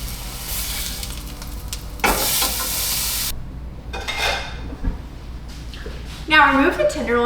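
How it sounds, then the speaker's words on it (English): Beef tenderloin sears in a hot pan with a loud, steady sizzle and crackle. Scrapes and stirring bursts come and go while someone talks throughout. "When you sear, the outside of the meat will develop a delicious crispy and brown crust."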